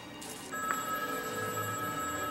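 A telephone rings in short electronic bursts with a steady tone, heard alone without voices, in a scene from a TV horror anthology episode.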